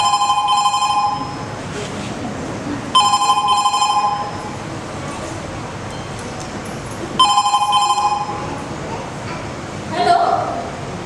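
An old landline telephone rings in a Marathi stage drama, three bursts of bright electronic trilling spaced a few seconds apart, loud and close, with a voice briefly at the end.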